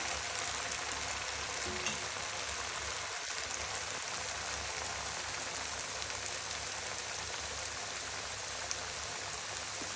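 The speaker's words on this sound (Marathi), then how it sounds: "आणि कमी गॅसवर तळू चकल्या" Chakli, a spiral savoury snack, frying in oil over a low gas flame, giving a steady, even sizzle and fine bubbling crackle throughout, close and continuous with a low hum beneath and no talking.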